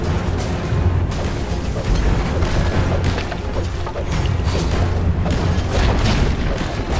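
A tower is destroyed in Dota 2 with deep booming explosions that roll on continuously at high volume, with heavy low rumble and bursts of debris-like crackle and no talk.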